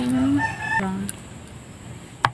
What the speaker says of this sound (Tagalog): May manok nga!